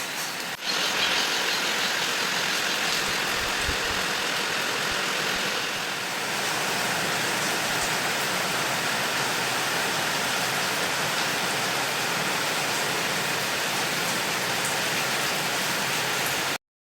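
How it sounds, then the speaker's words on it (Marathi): Heavy rain drums on metal roof sheets at a temple in Dhule, a dense, loud, steady hiss and patter that runs unbroken throughout, with a low engine-like hum beneath and no talk. "तुम्हाला ऐकूच येत असेल पत्र्यांचा आवाज येतोय खूप जोरदार पाऊस होता इकडे"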